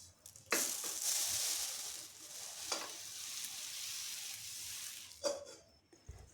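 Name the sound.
sesame seeds being stirred and lightly roasted in a pan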